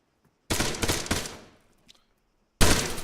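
Gunfire in the video game Arma 3, two loud, close, sharp shots each trailing into a short decaying echo, separated by about two seconds of near silence.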